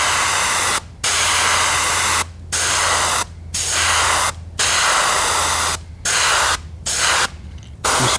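Pearl lime green paint sprayed in a light coat over yellow in short repeated bursts, a loud close hiss roughly every second with brief silent gaps between passes.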